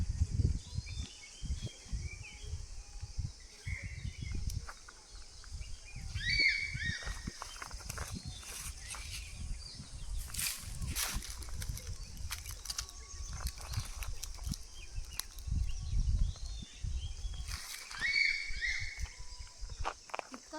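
A few distant bird calls ring out now and then over a steady outdoor hiss in a Konkan forest, with scattered footsteps and rustling nearby.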